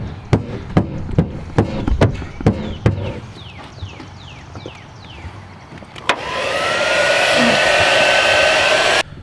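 A heat gun used to warm a panel for dent repair switches on after a series of sharp knocks and clicks, then blows with a steady loud airy whoosh close by.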